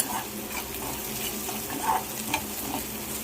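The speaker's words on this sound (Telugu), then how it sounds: "దీంతో పాటు కొంచెం అంత పసుపు అండ్ కారం వేసేసి ఫ్రై చేసుకున్నాం" Potato pieces fry in a pan with turmeric and chili powder, a steady close sizzle broken by a few scraping stirs.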